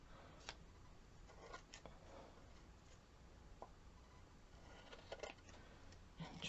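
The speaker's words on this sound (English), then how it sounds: "I'm just going to take my scissors right up against the edge of the block." Quiet snips and rustles of scissors trimming a paper napkin against the edge of a wooden block, a few distinct cuts spaced across the stretch, with no talking.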